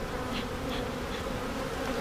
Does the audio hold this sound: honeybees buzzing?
yes